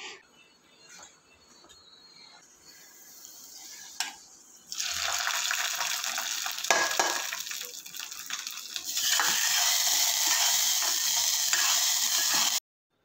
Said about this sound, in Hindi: पकौड़े का बैटर है ना उसके लेते जाना है और तेल में छोड़ते जाना है और अच्छे से मीडियम फ्लेम पर ये गोल्डन ब्राउन होने तक फ्राई करना है